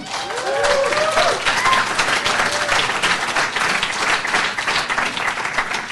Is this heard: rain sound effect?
no